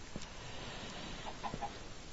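Chickens in a video game world, penned in a pit above the void, giving a few soft, distant clucks over a faint steady background hum.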